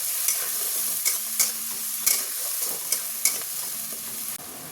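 A paste of ginger, tomato and green chilli sizzles in hot oil with fish, while a spatula stirs and scrapes the pan at a steady rhythm about every half second, close and continuous.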